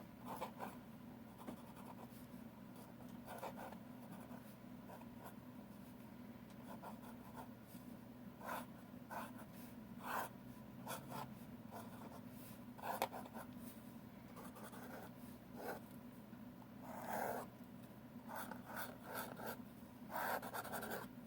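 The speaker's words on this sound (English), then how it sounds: "So that is a scroll nib, which puts down 2 parallel lines" A calligraphy scroll nib scratches across paper in short, repeated strokes, faint and close, with soft scraping bursts over a steady low hum.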